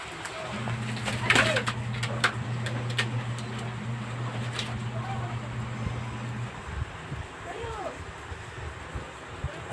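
Young pigeons being fitted with leg clip rings, with soft low cooing from nearby birds, a steady humming tone for several seconds, and a brief flutter near the middle.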